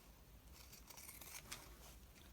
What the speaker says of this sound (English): I also like to use pinking shears because this will cut down on the raveling